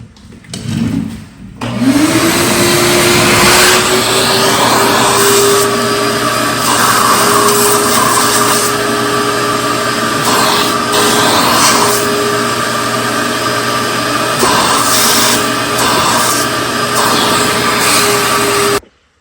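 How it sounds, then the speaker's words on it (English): A vacuum cleaner with a small funnel fitted to the end of its hose, used on a cheap 40-year-old three-wheeler, starts up and spins to a steady loud whine, droning continuously until it shuts off. "grab the other end of your vacuum, shove it in there, and then you can get in a small hole with it"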